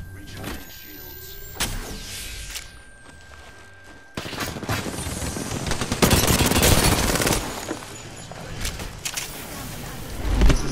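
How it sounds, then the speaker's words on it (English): Rapid automatic gunfire bursts from the video game Apex Legends, loud and sustained through the second half with scattered shots earlier, mixed with game effects and a voice speaking over it. "Getting shot at."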